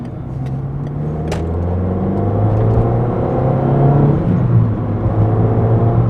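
A Peugeot 206 RC with its 177 hp engine pulls away on a road, a steady, loud engine note rising through the gears as it accelerates, with continuous road rumble and no talk.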